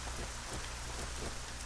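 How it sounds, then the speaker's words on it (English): Steady rain falls in the swamps of the video game ArcaniA, a dense continuous hiss of drops with no talking over it. "Seemed like the rain died off for a second, and then came right back"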